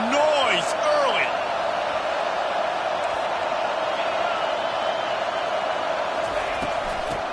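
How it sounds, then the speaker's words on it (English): Crowd noise at an SEC college football game fills a stadium with a steady, broad roar and scattered whoops, while a play-by-play voice talks over it. "This crowd bringing the energy and noise early."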